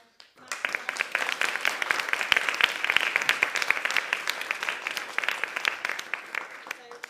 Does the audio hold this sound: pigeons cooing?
no